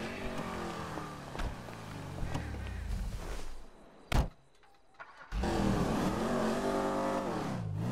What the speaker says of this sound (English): Yeah, this thing sounds so much worse without the exhaust.